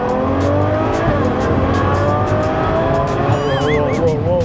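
A Ferrari F12's V12 roars loudly and continuously, with layered engine harmonics throughout and a rising, wavering tire squeal near the end; voices sound faintly underneath.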